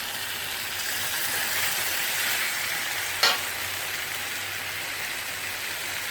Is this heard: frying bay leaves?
yes